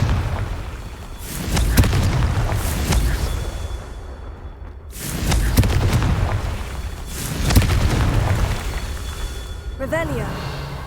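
Repeated booming fire-curse explosions in the Hogwarts Legacy video game, several heavy bursts spaced a few seconds apart, loud and full, with a player's voice talking over the game sounds.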